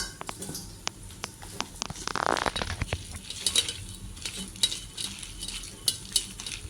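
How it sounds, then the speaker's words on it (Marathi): Fried colocasia leaves being mixed into bhaji batter, with dense wet squelching and scraping and a busy run of clicks and taps from a utensil against the bowl. "ते ह्याच्यात मिक्स करायची अशी सर्व अशी मिक्स करून घ्यायची"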